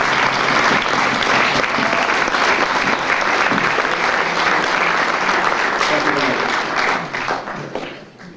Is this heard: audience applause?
yes